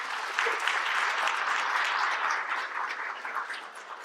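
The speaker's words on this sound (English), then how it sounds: "Please give another round of applause, please." Audience applause at an all-candidates forum held by environmental groups in Coquitlam, a steady dense wash of clapping from a crowd that holds for about four seconds and eases slightly toward the end.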